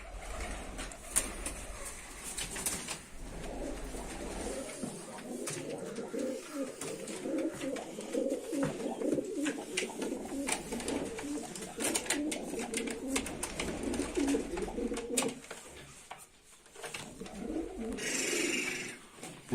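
Pigeons coo steadily inside a coop in a dense, low murmuring chorus, close by and continuous, with occasional rustling and a brief clatter near the end.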